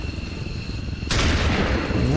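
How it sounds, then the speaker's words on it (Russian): A weapon fires in the video game XCOM 2, a sudden loud burst of gunfire cutting in partway through over steady background game sound. "Выстрел."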